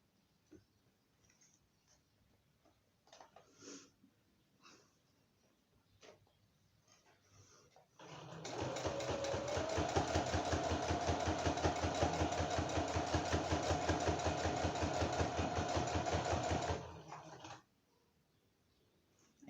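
Sewing machine stitching through a thick notebook cover, a steady rapid mechanical chatter running close and loud for about nine seconds after quieter handling clicks and taps.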